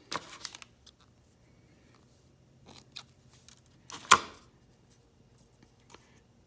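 Scissors trim the excess fishing line from a walleye crawler harness, heard as a few faint, close clicks and snips with one sharper cut standing out in a quiet room.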